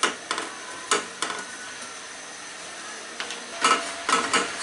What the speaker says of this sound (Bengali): উল্টায় এই পাশটাও কিছুটা ভেজে নেব।